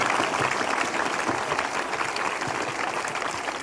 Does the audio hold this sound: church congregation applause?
yes